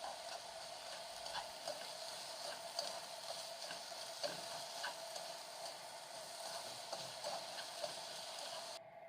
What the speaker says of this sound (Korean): 이렇게 좀 따로따로 볶아주세요.